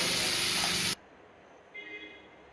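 Onions and tomatoes sautéing in a pan for hotel-style tiffin sambar: a loud, steady sizzle that cuts off abruptly, leaving a faint background hiss.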